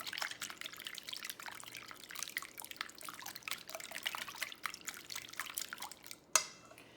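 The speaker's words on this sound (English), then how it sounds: "we're just going to whisk that together" Eggs beaten with a teaspoon each of salt and pepper for a veggie frittata, a quick continuous wet clatter of whisking close by, with a sharper knock near the end.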